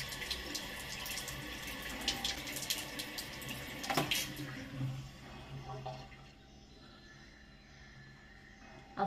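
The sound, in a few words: washing face with running tap water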